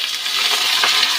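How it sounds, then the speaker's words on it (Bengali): Potatoes tipped into hot oil in a wok, a loud close burst of hissing, crackling sizzle that holds steady for about a second with no talking. "এবার আমি এই গরম তেলের মধ্যে কিন্তু এই আলুগুলো কিন্তু"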